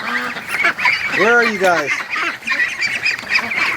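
Muscovy ducks give honking, nasal calls close by in an outdoor duck yard. A person talks over the calls, with a clear run of descending honks in the middle.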